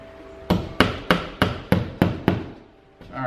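A hammer drives a nail into a wall stud to confirm the stud is there: seven sharp, evenly spaced strikes ring out close and loud, each with a short decay, with no talk.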